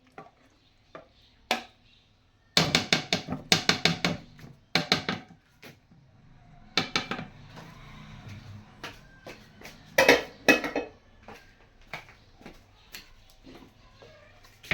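Chickpeas, cucumber, onion and potato being mixed in a bowl for dahi baray, giving bursts of close clattering and scraping clicks in irregular clusters with quieter gaps between, no talking.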